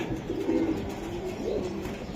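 Giribaz pigeons kept for sale coo in low, rolling calls, two soft phrases close by over a steady background murmur.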